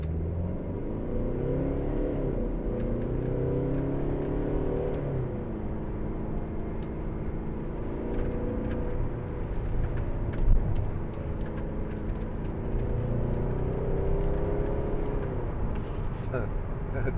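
A 2012 Mercedes-Benz SLK250 CDI BlueEFFICIENCY diesel with a 7G-Tronic gearbox in manual mode pulls away in first gear, its engine note rising in repeated climbing sweeps, heard from inside with a voice talking over it.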